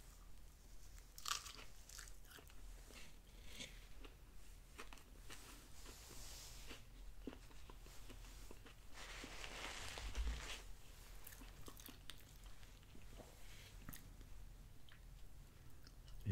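Close crunchy bites and wet chewing of a Wendy's spicy chicken sandwich heavy with mayo, repeated crisp bursts then slower mouth sounds, intimate and quiet with no talking.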